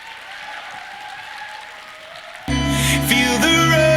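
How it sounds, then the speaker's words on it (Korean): An audience at a startup demo day applauds as a presenting company is welcomed; moderate clapping runs for a couple of seconds before loud music suddenly kicks in over it. "여러분, 크레파스 큰 박수로 맞아 주십시오."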